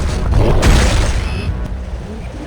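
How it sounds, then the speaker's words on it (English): Shredder shotgun from a video game firing explosive rounds: a loud, dense blast with a booming low-end burst that rolls on into crackling, sizzling after-noise, no talk over it. "Its explosive rounds literally shreds enemies to pieces"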